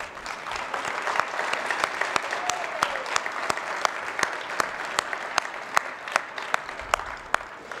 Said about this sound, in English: Maybe you could stand up for a round of applause so everybody knows who you are.